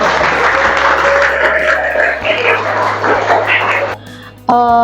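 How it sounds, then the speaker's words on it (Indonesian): Classmates clap for a student named Jaki in a classroom, a brisk wash of hands over a low steady hum, thinning near the end as a brief tonal sound cuts in. "Oke, tepuk tangan dulu buat Jaki."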